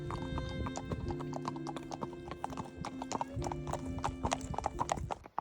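Horse hooves clip-clop steadily along a highway in the Paradox Valley, a close, even rhythmic beat under a constant low hum, with a faint whinny-like tone and no talking.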